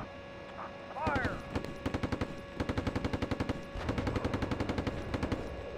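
Video game gunfire crackles in rapid, regular machine-gun bursts mixed with single shots, loud and near, with a radio-style voice and other game sounds underneath.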